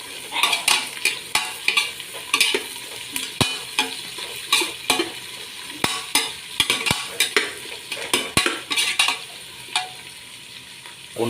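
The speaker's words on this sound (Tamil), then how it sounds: "இந்த வெங்காயம் பொன்னிறமாக வதக்கிற அளவுக்கு" Onions sautéing until golden for mutton biryani, a bright sizzle punctuated by repeated sharp metal spatula strokes against the pan in an irregular rhythm, close and alone.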